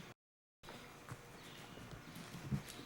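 Faint, steady clip-clop of horse hooves on the footing of an indoor riding arena during a 1996 jumping clinic, heard at a distance after a brief dropout.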